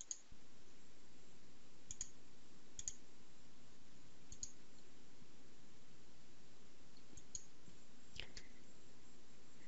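A few faint, sharp mouse clicks on a computer button, spaced a couple of seconds apart over a quiet hiss, with no talking.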